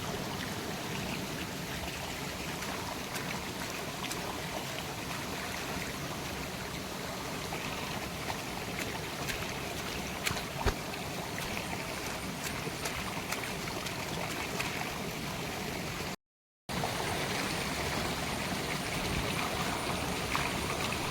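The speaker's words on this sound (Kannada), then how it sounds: "ಇಲ್ಲಿ ತೋಡಲ್ಲಿ ತಂದರೆ ಆರಾಮಾಗಿ ಕ್ಲೀನಾಗಿ ತೊಳೆದುಕೊಂಡು ಹೋಗ್ಬೋದು" A small stream burbles and trickles steadily where leafy greens are washed in clear running water, a soft continuous flow heard close and alone, with a brief dropout near the end.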